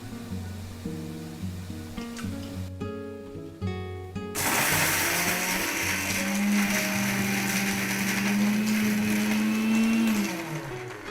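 A mixer grinder roars to life partway through and runs loud and steady, whirring as it blends a lentil batter with water, after a quieter stretch of background tones.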